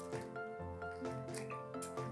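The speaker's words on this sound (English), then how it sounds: "I had immersed it in water, this dough, and now I'm squeezing it nicely." Hands squeeze water-soaked dough for Tirunelveli halwa, giving faint wet squishes and drips that repeat in a loose rhythm, close to the microphone with no talk.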